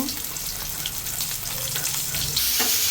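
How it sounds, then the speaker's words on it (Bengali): Fish fries in hot oil in a home kitchen, producing a loud, continuous crackling sizzle up close that stays fairly even, with light spatters and a slight swell in the final moments. "তেলের মধ্যে মাছটি দিয়ে দিছি আমি মাছটি ভেজে নই"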